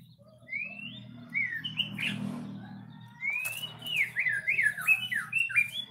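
A white-rumped shama (murai batu) songbird chirps and whistles in bright, varied phrases, a short burst followed by a longer run of rising and falling notes, close and clear over a low background hum.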